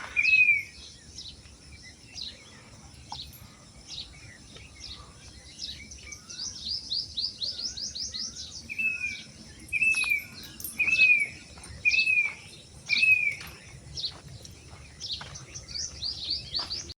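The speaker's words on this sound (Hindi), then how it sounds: "इस आवाज़ सुने माशाल्लाह कितनी खूबसूरत चिड़ियाँ आवाज़ निकाल रही हैं" Birds chirp in the early morning outdoors, repeated bright whistled calls and trills in bursts, fairly close, over a quiet background with faint insect hum.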